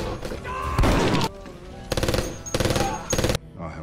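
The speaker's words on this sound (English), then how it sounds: "So the men hear the firefight break out." A firefight breaks out: loud, close bursts of rapid automatic gunfire with short pauses between volleys and a dense, crackling barrage, no talk over it.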